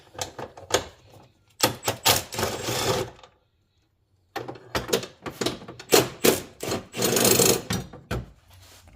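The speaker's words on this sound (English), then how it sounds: "I use a 13mm socket." A 13mm socket wrench with an extension ratchets out the battery bracket bolt on a BMW X-series SUV. Crisp, close clicking comes in quick bursts, with a short pause between runs of turning.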